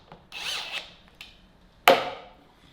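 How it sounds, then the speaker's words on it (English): A screw driven into wood to fix a fitting in place, heard as a couple of brief whirring bursts and then one sharp mechanical knock, fairly close and with no voices. "And then it is just a matter of screwing it in place."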